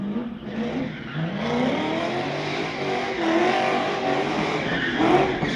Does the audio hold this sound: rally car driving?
yes